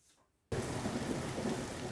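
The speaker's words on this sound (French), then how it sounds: "Il pleut doucement sur la ville." Gentle rain falls steadily over a town, a dense, even hiss of drops that switches on abruptly after a near-silent half second and continues unbroken.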